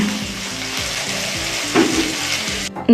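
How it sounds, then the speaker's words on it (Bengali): Bitter gourd and potatoes fry in a pan with a steady, loud sizzle and the occasional stir, close up, ending in a brief clatter as the food is taken off. "আমার উচ্ছে আলু ভাজা হয়ে গেল"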